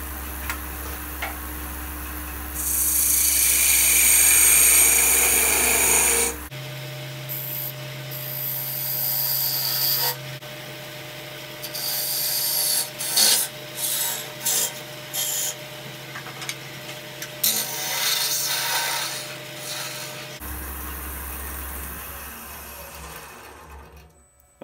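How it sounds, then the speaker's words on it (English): A skew chisel shears the underside of a natural-edge wooden goblet's foot on a spinning lathe, giving a steady close cutting hiss in bursts, with a low motor hum running throughout and brief pauses between passes. "Just going to take the skew chisel for cleaning up the very bottom of the foot"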